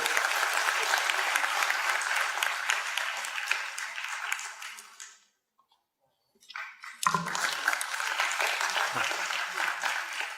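A crowd applauds loudly and steadily, the clapping dying out briefly to near silence before a second burst of applause starts up again.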